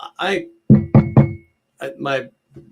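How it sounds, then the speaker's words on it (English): Three quick, sharp knocks on a wooden desk, close and distinct, in a short gap between stretches of a man's speech. "My desk is wood, so I did knock on it."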